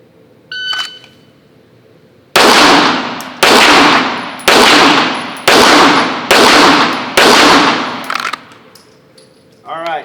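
Six loud pistol shots fired at 25 yards, each a sharp crack with a ringing decay, spaced roughly a second apart in a steady string, with a faint beep just before the first.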